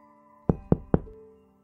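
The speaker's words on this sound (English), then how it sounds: "Tyler's friend who lived next door stopped by and knocked on the front door." Three firm, evenly spaced knocks land on a front door, close and distinct. A faint hum carries on underneath.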